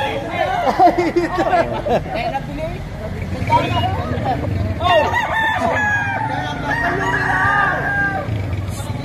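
Roosters crow repeatedly, loud and close, amid clucking fowl and a babble of voices at a busy poultry market in Padre Garcia, Batangas, with people talking throughout.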